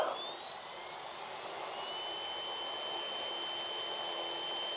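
An OMP Hobby M2 Evo RC helicopter spools up outdoors, a steady broadband whir with a rising high whine from the motor, holding loud and even throughout with no talking.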